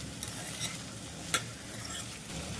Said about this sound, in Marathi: व्यवस्थित फोडणीमध्ये आपण परतून घ्यायचं आहे.